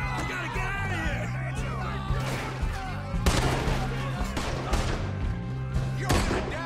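Gunfire during a riverboat robbery in Red Dead Redemption 2, sharp shots and bursts cracking over a steady music bed, with a heavier volley midway and another burst near the end.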